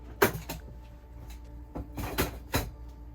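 An RV cabinet door is eased open, giving a few soft wooden knocks and clicks spaced unevenly across a quiet interior with a low hum.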